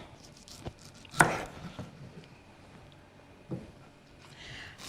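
A knife slicing through cored pineapple on a cutting board, a few separate chops and thuds spread out with quiet gaps between them.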